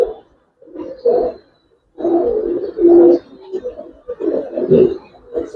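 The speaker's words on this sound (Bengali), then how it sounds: "আর একটা কবুতর দেখেন" Low, throaty cooing of Indian Allahabadi Kaldam pigeons in several rounded bursts with short pauses between, close by and moderately loud.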